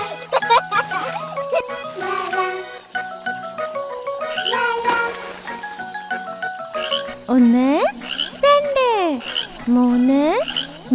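Cartoon frog croaks in a Malayalam children's nursery song about five little frogs, with bouncy music and sung voices, followed by several loud, swooping croak sounds near the end.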